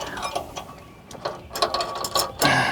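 A 1UP-USA hitch bike rack lock on a Jeep being unlocked, with close metallic ratcheting clicks and mechanical rattles in short bursts, louder toward the end.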